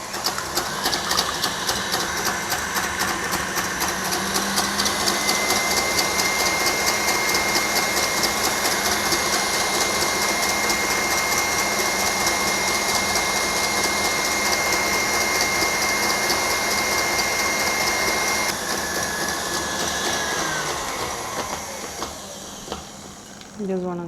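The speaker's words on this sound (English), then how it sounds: "I'm just going to beat this, wait until the egg whites get frothy" Egg whites whipped toward frothy meringue for a fat-free vanilla cake, heard as a continuous, fairly loud whirring mixer drone with a steady tone that holds throughout and tapers off near the end.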